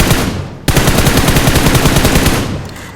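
Automatic gunfire in the video game BGMI finishing off an enemy, a loud sudden burst of rapid-fire shots in a fast steady rhythm lasting about two seconds, following a softer stretch of game noise.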